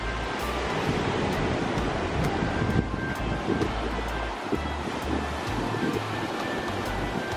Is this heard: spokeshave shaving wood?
no